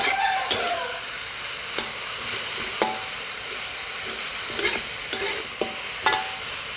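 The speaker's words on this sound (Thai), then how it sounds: "พอกระเทียมเริ่มหอมก็ใส่ถั่วพูลงไปเลยนะ คะเร่งไฟหน่อยค่ะ" Winged beans stir-fried with fragrant garlic over high heat, a constant close sizzle broken by sharp spatula scrapes and clanks against the pan at irregular intervals.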